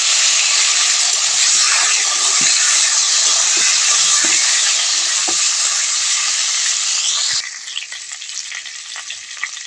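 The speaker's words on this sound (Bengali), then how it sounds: "এবার সিদ্ধ করা আলু কড়াইতে দিয়ে আমি ভালো করে ভেজে নেব।" Boiled potatoes fry in a kadai with a loud, steady sizzle and hiss and occasional stirring clinks. The sizzle drops sharply near the end, leaving a quieter crackle.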